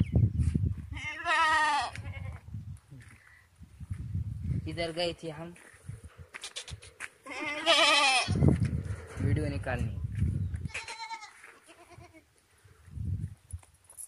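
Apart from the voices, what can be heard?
goat bleating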